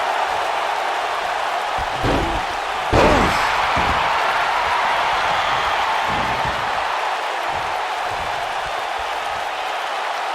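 A wrestler is slammed into steel ring steps during a WWE Championship match, a dull heavy thud rising briefly above the loud, continuous roar of an arena crowd.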